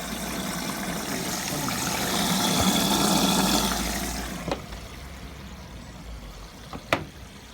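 Water rushes into a Hotpoint WMA50 washing machine during a test wash, a loud steady flow that swells and then cuts off, followed by a couple of sharp clicks and quieter machine hum.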